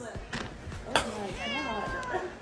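Several cats meow in quick, rising and falling cries close by, overlapping with a person's voice talking to them.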